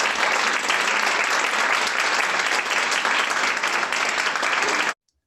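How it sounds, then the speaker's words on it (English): A large audience applauds steadily and loudly, a dense wash of clapping that holds for about five seconds and then stops abruptly. "So let's have a round of applause to you all."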